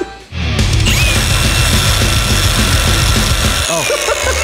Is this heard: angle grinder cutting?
yes